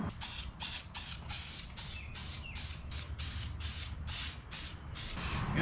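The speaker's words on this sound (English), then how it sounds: "Couple key things you want to do when painting an engine," An engine is spray painted in short rhythmic bursts, about a dozen close hissing sprays in a steady rhythm with brief gaps between them.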